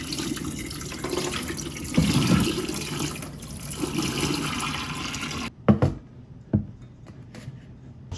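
Tap water runs steadily into a container while bean sprout rice is being prepared, a continuous splashing stream that stops abruptly, followed by a few scattered drips and clunks.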